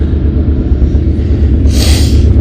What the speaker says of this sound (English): I probably didn't hear you because the train was going by